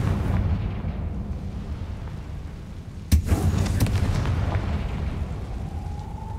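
A Confringo fire spell from the Hogwarts Legacy video game detonates with one sharp, loud blast about halfway through, then crackles and rumbles over a steady low game-ambience drone.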